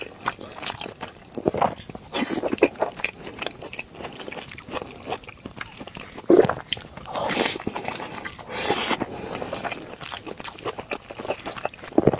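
Someone eats a tomato and egg rice ball, giving close, irregular bites and soft chewing with occasional crunchy bursts against a quiet background.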